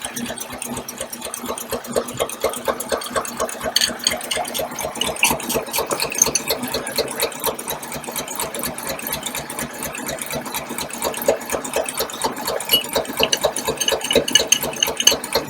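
A 1953 Packard engine idles steadily with an open valvetrain during valve adjustment, its fast, even ticking of the lifters and rockers close and continuous, with a brief faint voice in the background.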